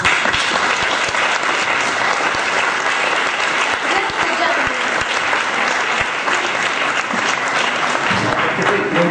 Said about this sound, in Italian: L'applauso non è per me